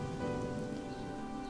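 Steady rain falling in the video game Gothic II, a dense, even patter on surfaces that fills the whole moment without pause or voices.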